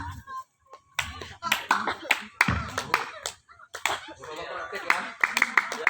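Rhythmic hand clapping from a Didong performance, sharp claps in quick patterned bursts with pauses, close and fairly loud, with voices mixed in.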